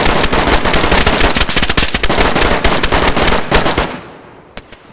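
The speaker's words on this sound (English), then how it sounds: "I'm getting shot at from like town side." Rapid video game gunfire rattles in dense, loud bursts for about four seconds, then stops abruptly, leaving a couple of faint isolated shots.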